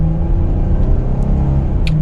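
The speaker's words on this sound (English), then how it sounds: "we have a V6, so we'll give it just a little bit of gas." A 2022 Kia Carnival SX Prestige V6 engine accelerating under light throttle, a steady close low rumble and whir with a gently rising tone, loud and alone.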